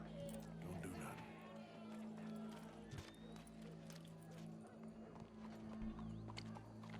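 Horse hooves clip-clopping in Red Dead Redemption, a steady run of hoofbeats under a sustained hum and scattered background sounds, with faint voices in the mix.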